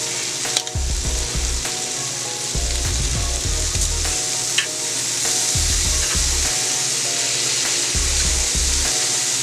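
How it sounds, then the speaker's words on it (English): Shrimp sizzling in a hot pan as each one is flipped over, a steady close sizzle broken by repeated low thuds and scrapes from the turning utensil, with no voices. "I'm going to go ahead and flip each one of these shrimp over."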